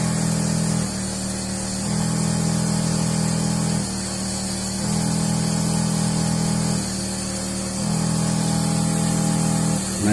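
A smoke machine hums steadily while pumping smoke into the fuel tank of a 2007 Chevrolet Silverado Classic with an evap leak. The loud, close drone cycles in long, regular pulses with a broad hiss underneath.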